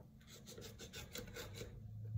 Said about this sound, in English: let's cut the excess off